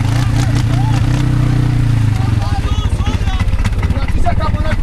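An ATV engine revs hard and then throbs unevenly during an off-road safari, loud and close, while people shout and talk over it.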